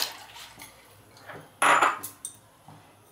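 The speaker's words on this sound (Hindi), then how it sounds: "पास्ता हम पानी में डाल देंगे," Dry pasta being added to a pan of water on a gas stove, with light clinks, a louder rattling clatter in the middle and a few scattered knocks, close and fairly quiet.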